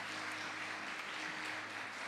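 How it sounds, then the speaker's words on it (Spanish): A church congregation applauding, a steady, even patter of many hands clapping at moderate distance, unbroken across the short stretch. "denle un aplauso al Señor"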